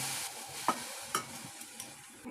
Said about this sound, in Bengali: এইভাবে নেড়ে নেড়ে আমি এটাকে ক্যারামেলটাকে করে নেব।